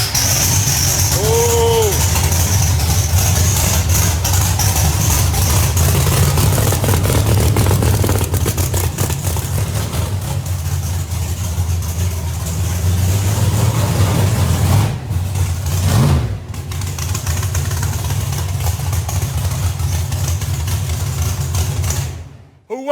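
Vehicle engine cranking to life, then idling and revving in a loud, steady drone close by, with a brief pause near the end and people talking over it.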